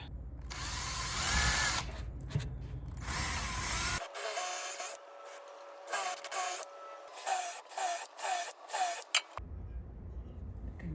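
A power drill boring a 5mm pilot hole while a Fleximounts GL1 garage lifting rack is installed, the motor whirring in a long loud burst, then a lighter whining stretch with short stop-start pulses before it bears down hard again.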